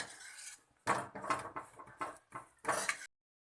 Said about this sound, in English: Now I will mix it well so that my potato palya or aloo palya will be ready